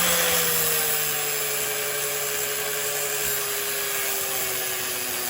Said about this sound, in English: we're gonna chop off this side here with the grinding disc